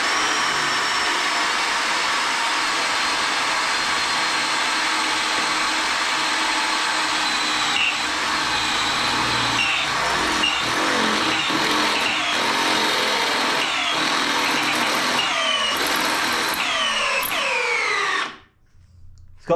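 A drill bores holes through a steel plate for a 7.25-inch gauge steam locomotive build, whining loudly and steadily close by for about eighteen seconds before stopping abruptly.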